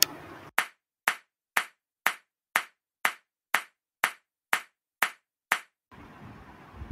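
Eleven crisp, evenly spaced hand claps ring out loud and close in steady rhythm with silence between them, followed by a soft background hiss, in a children's preschool lesson setting.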